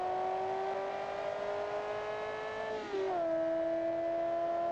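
A supercar engine in BeamNG held at full throttle through a turn, a steady rising engine tone that drops sharply at a quick gear change and then climbs again, loud and close.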